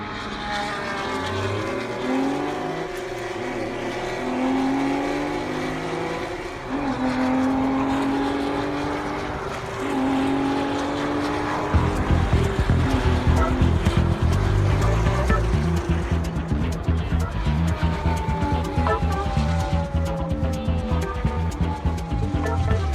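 Formula One race cars speed along a race track, their high engines whining and sweeping up and down in pitch as they pass, and the roar grows denser and louder through the second half.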